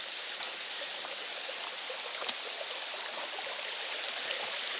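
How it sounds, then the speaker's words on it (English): A small stream beside a hiking trail on the Appalachian Trail, running after recent rain, gives a steady, even rush of flowing water with no break and no voices. "The water's flowing nice."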